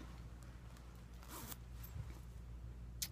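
A half zip on a soft, baggy sweater is drawn in a few quick brushing strokes, close and fairly quiet, over a low steady background hum.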